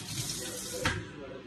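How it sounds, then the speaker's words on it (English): Running kitchen tap water splashes steadily over a hand being rinsed mid-recipe, a continuous close hiss with a brief louder splash partway through. "I'm just gonna rinse my hand a second."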